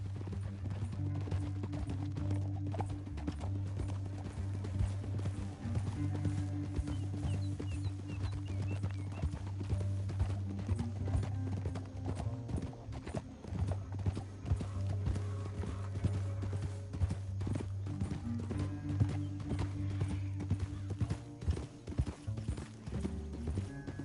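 Horse hooves clip-clop steadily through a western video game, a continuous rhythmic gallop with a low droning backdrop, loud and near for the whole stretch.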